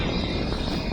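An EasyJet airliner at Manchester Airport, heard from the runway visitor park, gives a loud, steady broadband jet engine roar that fills the whole moment without a break.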